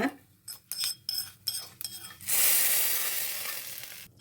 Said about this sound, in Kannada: ನಾನೊಂದು ಒಗ್ಗರಣೆ ಮಾಡ್ತೀನಿ